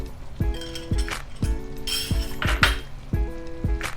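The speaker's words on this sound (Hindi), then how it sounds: "और चम्मच हिला लें" A spoon stirs pakora curry (kadhi) in a cooking pot, making repeated metallic clinks against the pot at a steady rhythm of roughly one to two knocks per second, close and clear, with a faint simmer underneath.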